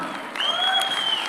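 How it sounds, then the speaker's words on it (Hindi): An audience at a film launch event for Ramayana gives a short burst of applause, moderately loud and spread out, with a faint tonal whine running through it. "एक बार जोरदार तालियां हो जाए।"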